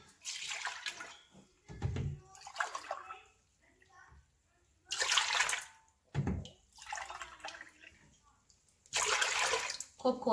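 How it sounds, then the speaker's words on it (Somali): Three cups of milk pour into a cooking pot on the stove, several separate splashing, gurgling pours in bursts, with a person speaking between them. "marka waxaan ku shubayaa 3 koob oo caano ah"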